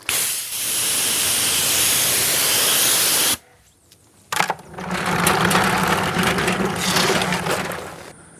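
A pressurized sprayer hisses loudly and steadily while a Porsche 718 GT4 is washed, cutting off briefly mid-clip and then resuming with a rougher, fluttering spray.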